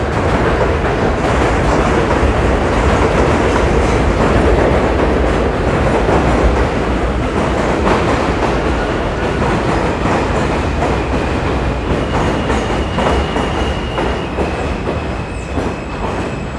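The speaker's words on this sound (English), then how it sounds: "There's the F train." An F train on the New York City subway runs through a station, its loud wheel rumble and clickety-clack steady and close for the whole stretch, with a faint high squeal toward the end and no talk.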